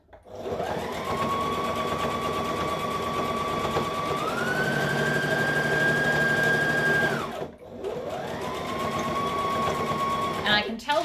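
A home sewing machine stitches steadily over thick garment seams, a loud continuous whir that holds pitch, rises briefly, stops, then starts again near the end.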